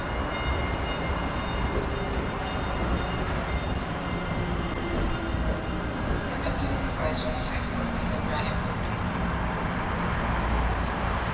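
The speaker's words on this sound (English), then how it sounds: "Look on my left side, there's a train." A train rumbles past close by in downtown Baltimore, a steady broadband roar with rail clatter that holds for the whole stretch, with city traffic noise mixed in.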